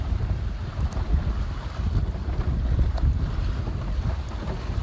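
A small Gig Harbor melon seed sailboat moves briskly through roughly 10 knots of wind, heard as constant loud wind buffeting with rushing water along the hull, no voices.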